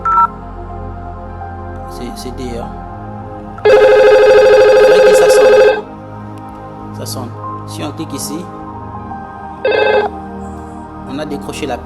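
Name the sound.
VoIP telephone ringing during call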